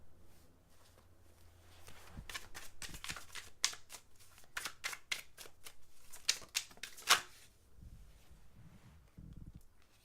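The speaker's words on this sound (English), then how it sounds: "I'm going to pull an outcome card" Tarot cards are shuffled and drawn, giving soft, close riffling and flicking bursts with a few sharper snaps, quiet overall and without talk.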